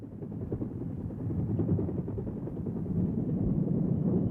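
A Huey utility helicopter, converted into a Vietnam War gunship, drones overhead with a steady, heavy low rotor and engine rumble that swells slightly louder and holds, with no voices.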